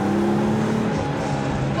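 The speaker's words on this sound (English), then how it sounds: "Oh, this engine is so elastic. It just is a BMW 6-cylinder." A BMW 3.0 CSL E9 with its six-cylinder engine drives along, a loud, steady engine drone heard from inside the car, with a voice talking over it.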